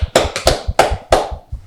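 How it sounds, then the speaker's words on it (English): A small group of guys claps for a New England Patriots center on a show, with a few sharp, close handclaps in an uneven rhythm that fade into quieter pats. "Give him a round of applause"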